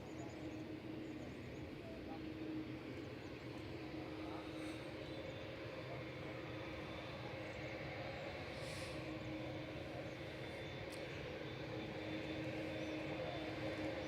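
Boeing 787-9 airliner taxiing at Manchester Airport, a continuous distant jet engine rumble and whine holding steady throughout over outdoor wind noise.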